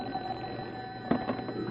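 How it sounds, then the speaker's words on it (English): An old-fashioned telephone bell rings faintly in a radio drama scene, a brief quiet trill with a couple of sharper strikes, heard alone without speech. "Hey, that's my phone."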